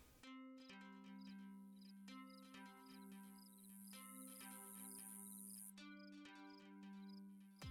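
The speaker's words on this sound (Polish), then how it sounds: "W polach uprawnych można usłyszeć dźwięki insektów. Możecie sobie tego posłuchać, są to m.in. dźwięki świerszczy." Crickets chirp steadily across farm fields in the BeamNG.drive video game, a continuous layered trill with rhythmic pulses at moderate level, heard alone without talk.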